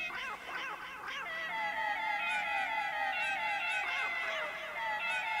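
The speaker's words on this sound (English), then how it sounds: "if you rotate the knobs, it's like an echo sound effect." Cat meow sounds from a Nintendo Labo Toy-Con piano repeat with an echo effect, overlapping into a continuous wash of meows with trailing repeats, moderately loud and without speech.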